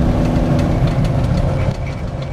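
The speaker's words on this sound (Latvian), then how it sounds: "Un šī skaņa no motoru bremzes ir vienkārši nereāla." A truck engine brake roars as a heavy diesel engine is held at high revs, a loud, low, rumbling drone heard up close inside the cab, steady before easing slightly near the end.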